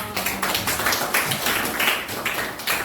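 A classroom of students gives a short round of applause, rapid overlapping claps forming a dense patter for a few seconds, fairly close.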